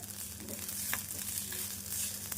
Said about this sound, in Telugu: ఇప్పుడు మనం కట్ చేసుకున్న ఇడ్లీ ఇందులో వేసుకోవాలి. వేసుకొని కలుపుకోవాలి.